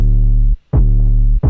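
Clean, undistorted 808 bass for a Brazilian phonk remix, two long deep booming notes with a brief gap between them, loud and alone.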